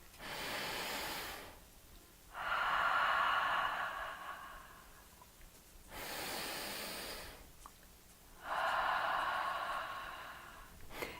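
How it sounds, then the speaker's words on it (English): Slow, deep breaths drawn in through the nose and released out through the mouth, two full cycles of soft inhale hiss followed by a louder, breathier exhale, close and quiet. "here's an example of breathing in through the nose and out through the mouth"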